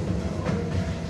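A train rolls steadily along the rails, giving a continuous low rumble with a faint rhythmic clatter that stays even and fairly close throughout the short stretch, with no voices.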